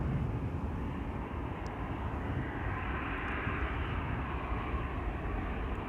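A Vueling airliner in special Cantabria Infinita livery at Schiphol produces a constant, fairly faint engine rumble that stays at an even level throughout, with no voices.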